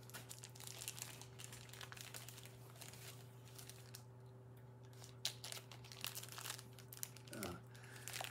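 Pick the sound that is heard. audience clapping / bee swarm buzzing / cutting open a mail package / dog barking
cutting open a mail package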